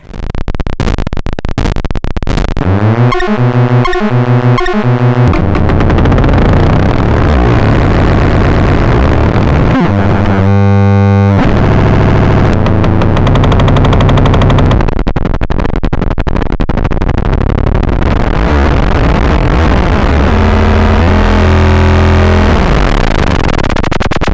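A Eurorack modular synthesizer driven into chaotic behavior, churning out loud, dense, abrasive noise with stuttering pulsed rhythms, gritty buzzing drones and sudden shifts in texture, relentless and unbroken.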